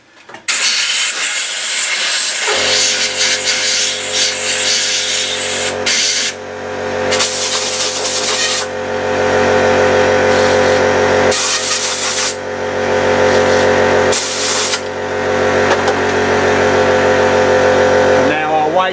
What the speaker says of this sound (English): I'm going to give that another blast with the air in there